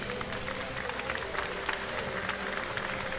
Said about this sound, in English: please give a warm round of applause for our on their champions.